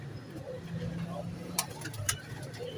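Pigeons coo softly in low, murmuring tones against a faint background hum, with a couple of brief sharp clicks and a voice now and then.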